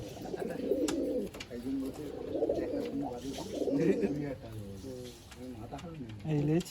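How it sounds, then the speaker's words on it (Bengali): Soft, throaty pigeon coos repeat in low rolling phrases, close by, at a pigeon sale in Garia, mixed with people talking over them. "এত সুন্দর পায়রা দেখুন"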